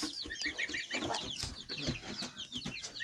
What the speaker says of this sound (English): Here's your little chicken.